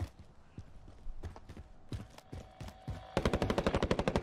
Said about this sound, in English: You hear the gunfire in front.